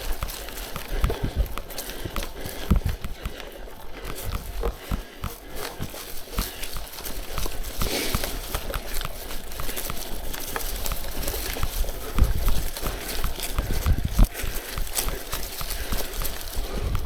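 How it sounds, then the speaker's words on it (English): Horses walk along a trail, their hooves clip-clopping in a steady uneven rhythm at moderate distance over continuous outdoor background noise, with no talk. "Got horses out walking"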